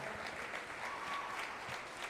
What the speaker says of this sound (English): the seniors, they deserve a lot of applause